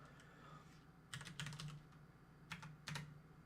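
Someone enters a password on a computer keyboard while setting up a game account: short clusters of crisp key clicks in a few bursts separated by pauses, close but quiet, with no talking.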